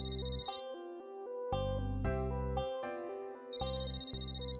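A phone ringtone plays a short, clear electronic melody of stepped notes, moderately quiet and alone, looping across the whole stretch.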